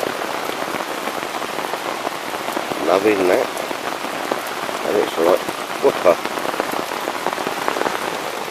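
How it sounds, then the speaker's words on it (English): Heavy thunderstorm rain drums steadily on the canvas of a teepee tent, a dense close hiss throughout, while someone talks briefly over it. "I'd love to hear the rain on top, but this is getting a bit much."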